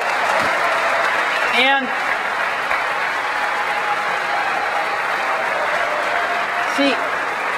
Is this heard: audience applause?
yes